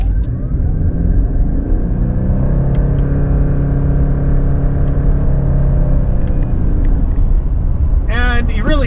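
Engine note of a 2026 Subaru Crosstrek Hybrid pulling hard under acceleration in manual mode with paddle shifts, a steady loud drone rising in pitch through several simulated gear changes, with someone talking over it.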